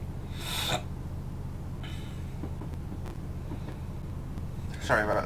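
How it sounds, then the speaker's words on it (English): A person with a cold sniffles in two short, close bursts, one near the start and one at the end, over a steady low rumbling drone. "Sorry about the sniffling noises"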